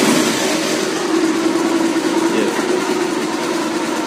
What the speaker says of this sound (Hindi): और अब मैं स्टार्ट करता हूँ अपनी बाइक को